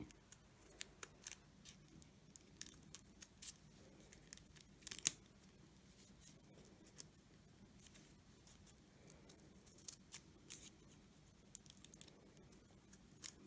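Steady series of soft scissor snips slicing through paper, close and quiet, with occasional rustling between cuts and no talking.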